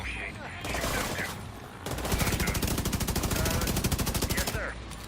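Rapid bursts of gunfire rattle out close and loud, a short volley followed by a longer sustained automatic string of evenly spaced shots that stops abruptly, with quieter background between.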